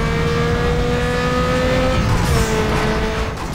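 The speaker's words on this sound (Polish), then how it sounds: "Dźwięki samochodów w tej grze nie są takie złe." A tuned car engine in the racing game Need for Speed Underground 2 drones loudly with steady revving tones that shift pitch as it races, close and continuous with no talk.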